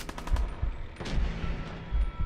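Gunfire in Fallout 4, several sharp shots and bursts close by in quick irregular succession, with a heavier blast near the middle and dull low thuds.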